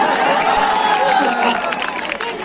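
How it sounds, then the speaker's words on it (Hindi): An audience at the Sahitya Aaj Tak literary festival applauds in a dense, steady burst of clapping that fades slightly toward the end. "तालियां आपके लिए।"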